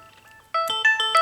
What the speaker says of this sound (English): The amount of times my phone goes off every day is insane.